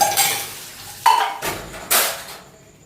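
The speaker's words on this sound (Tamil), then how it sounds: "அங்கே இருக்கிற பாத்திரத்தை விளக்கிட்டு வந்துடுறேன்" Pots and vessels being washed in a home kitchen: a few separate clattering, scraping bursts of metal utensils with short splashy washes between them, fairly close and with no talk.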